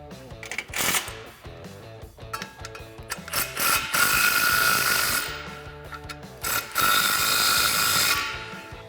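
A ratchet clicks in quick bursts while exhaust clamps are tightened on a 2018-2019 Mustang GT during a Pypes Phantom H-Bomb cat-back install, fairly loud and close, with a steady musical bed underneath.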